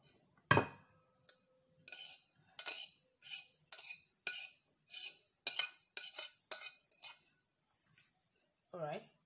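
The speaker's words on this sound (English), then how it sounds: "So I'll transfer it into another bowl" A spoon scrapes and taps against bowls while a teeth-whitening mixture is moved into another bowl. The clinks and scrapes are close and sharp, come in an uneven series, and stay fairly quiet, with a voice heard briefly.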